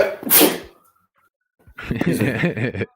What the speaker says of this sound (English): was a sneeze of agreeance right there